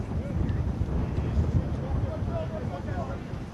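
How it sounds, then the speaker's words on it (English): Steady wind gusts buffet the microphone at an outdoor men's lacrosse match between the Virgin Islands and Canada in Kingston, a continuous low roar running through the whole stretch with crowd ambience. "the wind continues to gust here in Kingston."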